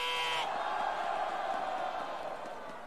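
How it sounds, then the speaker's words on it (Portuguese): A crowd at a rap battle roars and cheers after a round of rhymes, giving a loud, sustained wash of shouting and whooping that slowly fades. "Barulho para as rimas de Big Mike."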